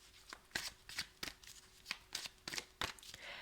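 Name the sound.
tarot cards being handled and covered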